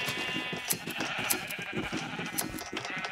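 Sheep bleating in the video game Minecraft, several overlapping bleats in quick succession, fairly loud and continuous, with no talk.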